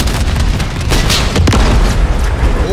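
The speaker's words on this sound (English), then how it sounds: "Enemy helo's going down." An enemy helicopter shot down and exploding in Call of Duty: Modern Warfare III, a loud, sustained, rumbling blast with crackling bursts and debris roaring continuously throughout.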